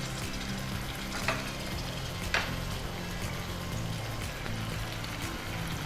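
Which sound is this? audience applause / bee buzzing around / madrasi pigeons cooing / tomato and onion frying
tomato and onion frying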